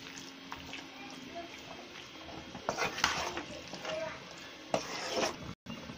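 Mutton is stirred and mixed with masala in a pan for Chettinad mutton curry, giving soft scraping and shuffling with a few louder bursts of spoon-on-pan contact over a quiet, steady kitchen background.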